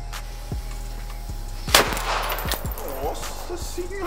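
A mini cannon loaded with firearm gunpowder fires at a light bulb: one sharp, loud blast with a bright burst of debris and clatter, over a steady low hum, followed by lingering rattling and faint ringing.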